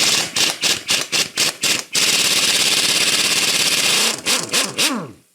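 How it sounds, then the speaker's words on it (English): A socket tool removes the flywheel bolt on an Onan engine in a Miller 225NT welder, using a 5/8 socket. Loud rattling bursts repeat, then a long steady hammering run, then more short bursts, close up with no talk. "I'm going to use a 5/8 and take this bolt out"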